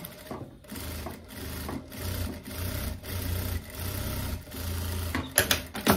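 A sewing machine runs in repeated short bursts of stitching along a trouser seam, topstitching a wide-leg cropped pant, with brief pauses between runs and a few clicks near the end.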